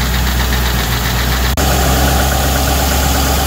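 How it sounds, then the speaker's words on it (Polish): A Land Rover Discovery V8 engine idles steadily with a low, even rumble, briefly dipping before settling back into a smooth, continuous hum. "Praca silnika jak troszkę przestygu."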